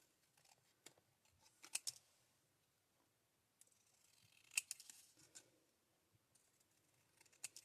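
Scissors snip through a stencil-masked floral papercraft piece in a few quiet, scattered cuts with small clicks between them, no talking.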